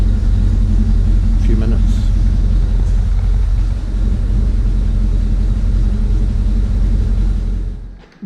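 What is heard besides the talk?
Rolls Royce Silver Shadow engine idling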